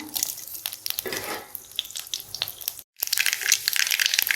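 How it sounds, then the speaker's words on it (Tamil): Mustard, cumin and fenugreek seeds dropped into hot oil in a kadai, a close crackling sizzle with sharp popping bursts, briefly cutting out before the spattering returns even stronger. "ஒரு கடையில் எண்ணெய் ஊற்றிக்கிங்க எண்ணெய் காஞ்சனையும் கடுகு ஜீரகம் வெந்தயம் சேர்த்து"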